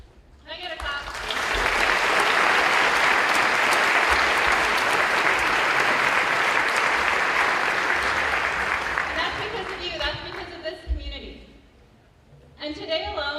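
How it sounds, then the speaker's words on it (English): An audience at a high school senior awards ceremony in Stuttgart bursts into loud, sustained applause that swells, holds for several seconds and then tapers off, after which a voice speaks. "Can I get a clap?"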